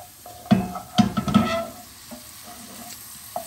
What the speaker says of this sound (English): my blueberries are just cooking down lovely